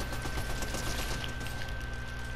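Sustained automatic gunfire in Call of Duty, a dense continuous rattle of rapid shots filling the whole stretch at steady loudness, with no voices over it.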